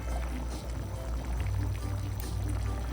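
Drained canned beans slide from the can into a pot in a close, steady pouring rush with soft wet thuds, and no voices.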